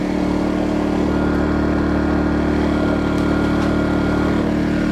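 An Atima inverter generator engine keeps running with its fuel turned off, a loud, steady buzzing drone with no change in pitch or level throughout, close by and with no talk over it.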